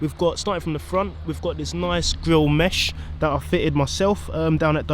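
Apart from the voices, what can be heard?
None of the usual background noises is heard.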